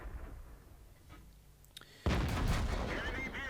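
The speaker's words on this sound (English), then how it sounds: "shots are bouncing all around me" Tank shots in World of Tanks from a Super Pershing position, a low rumbling background before a sudden loud heavy blast that keeps booming and rolling on.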